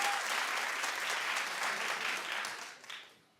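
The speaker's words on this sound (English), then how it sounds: "Clap if you watch." A talk-show studio audience breaks into steady, moderately loud applause, a dense patter of many hands that fades out over a few seconds.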